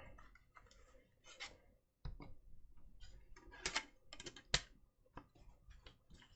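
Close, fairly quiet typing on a computer keyboard: irregular clusters of sharp clicks and taps with short pauses, occasional louder keystrokes, and no talking over it.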